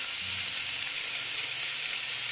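A small handful of beef sizzling in a hot pan, a steady bright hiss of frying fat holding evenly from start to finish, close and fairly loud, with faint low murmurs underneath.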